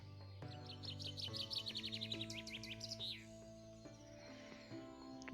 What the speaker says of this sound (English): Wow, these birds are loud.